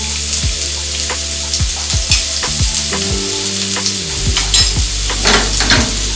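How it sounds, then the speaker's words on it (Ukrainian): Loud, steady sizzle of finely chopped onion frying in a pan, with repeated scraping and stirring strokes of a utensil close by. "Смажемо на потім цибулю нарізану дрібною крицею."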